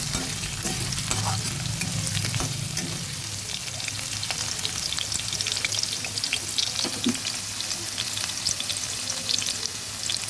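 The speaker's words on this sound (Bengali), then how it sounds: "উল্টে পাল্টে আলুগুলো ভেজে নেব।" Potatoes frying in oil without salt or turmeric, a dense steady sizzle close up with intermittent stirring scrapes as the pieces are turned over.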